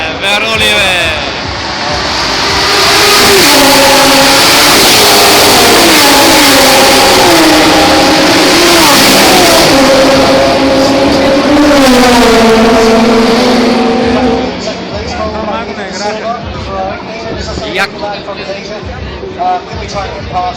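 GT race cars accelerating off the start of a city-circuit Grand Prix in Kuala Lumpur, loud rising and overlapping engine tones sweeping upward repeatedly, with an excited commentator talking over the roar before it fades somewhat near the end.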